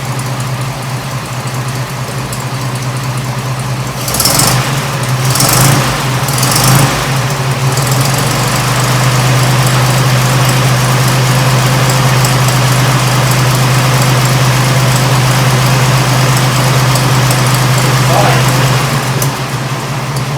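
A 1926 Oakland car engine runs steadily with a low idle hum, briefly rising in a few quick revs early on before settling back to a rough, constant drone.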